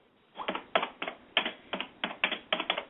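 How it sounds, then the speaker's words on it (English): Aggressive, hammering keyboard typing in bursts of rapid keystrokes, close and fairly loud, with short pauses between flurries and no voices over it. "I think I can hear Drake typing"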